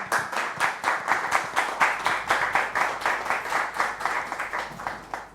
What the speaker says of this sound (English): They will introduce themselves with a round of applause